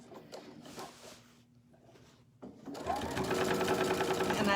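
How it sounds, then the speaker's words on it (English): A sewing machine stitches prairie points through folded fabric for a pillow, starting with slow intermittent stitching, then running at a steady fast whirring clatter; a voice speaks softly early on. "I'm going to just simply sew all of those prairie points right in place through this folded fabric"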